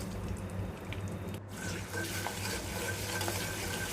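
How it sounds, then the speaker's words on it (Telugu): Ginger garlic paste fries in oil with curry leaves and turmeric while a spoon keeps stirring it, making a steady close sizzle with scraping strokes and a brief gap partway through. "అల్లం వెల్లుల్లి పేస్ట్ కూడా యాడ్ చేసుకొని ఫ్రై చేసుకోవాలి."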